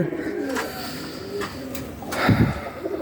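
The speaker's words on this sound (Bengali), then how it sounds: "সব কবুতর সুস্থ আছে ইনশাল্লাহ" Pigeons coo in a loft in hot weather. Several low, throaty coos come close by over a steady background, with a fuller cooing burst near the end.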